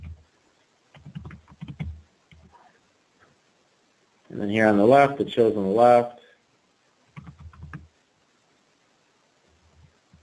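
Soft, scattered keystrokes on a computer keyboard, typing a customer chat message into a Salesforce chat window, come in short bursts; someone talks over part of it.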